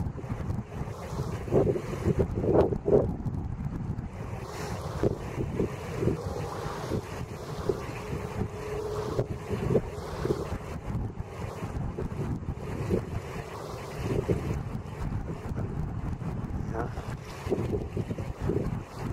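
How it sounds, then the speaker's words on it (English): A ship leaves port at Saint John, New Brunswick on a cold winter day, heard as a low distant rumble beneath heavy gusting wind buffeting the microphone and lapping waves along the shore. "I'm glad the boat came along, gave me something to do while I'm waiting."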